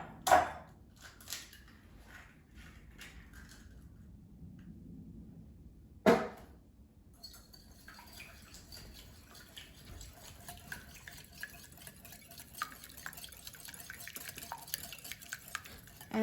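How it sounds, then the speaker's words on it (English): A single egg is whisked in a bowl for boxed brownie batter, with light rapid clinking and tapping. It opens with a few sharp knocks on the bowl, then settles into a quiet, continuous whisking with occasional louder taps. "And now I'm going to whisk an egg in a bowl."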